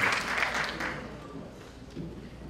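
Faint applause from the audience at a Miss Cuba US pageant gala after a junior-division contestant, a soft wash of clapping that fades and tapers away.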